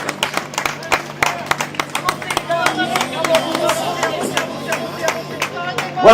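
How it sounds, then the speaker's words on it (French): Scattered clapping and cheering from a crowd for runners at a 10 km road race, with voices talking over it throughout. "on vous laisse applaudir les coureurs"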